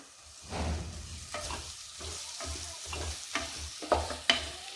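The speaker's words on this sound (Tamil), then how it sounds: "திரும்ப கிண்டி விடலாம்." Chicken gravy sautéing in a pan is stirred repeatedly, with soft sizzling under a series of scraping spoon strokes at an irregular rhythm, quiet and close.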